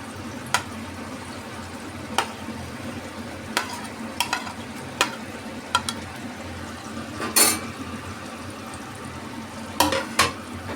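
Paneer, tomato and capsicum navratan curry cooks in a pan with a little water, giving a low steady sizzle broken by scattered sharp clicks of a spoon stirring against the pan, with no talking.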